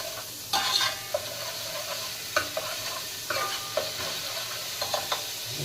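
Garlic and ginger sautéing in oil in a pan, with a continuous sizzle broken by repeated scraping and stirring strokes and light metallic clinks.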